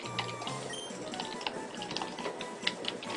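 Game menu typing blips in Pokemon Sapphire's name entry screen: rapid, fairly quiet clicky ticks in an irregular stream over soft background game sound.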